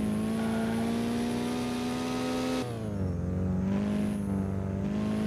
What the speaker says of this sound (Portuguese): Saveirinho tá berrando, hein?